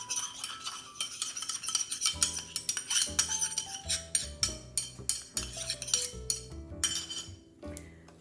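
A spoon clinks and scrapes against a bowl while stirring moustokouloura batter made with orange juice, quick irregular taps over gentle background music.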